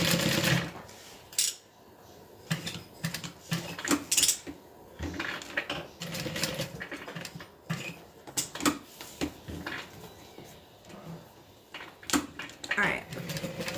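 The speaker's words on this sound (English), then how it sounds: "Sounded like it was sewing too smooth, so I wanted to make sure it was sewing right." A sewing machine stitches a tote bag in short, uneven bursts of needle clatter, with pauses and nearby handling clicks between runs; a person talks intermittently over the mechanism.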